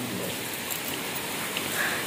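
Heavy rain pours steadily during a days-long storm with flooding, a dense continuous hiss of drops on surfaces, loud and close with no break.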